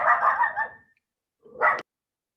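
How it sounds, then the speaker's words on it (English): Dogs bark indoors, a loud close burst of barking followed by a pause, then one more sharp bark. "my dogs will start barking at some point during this call"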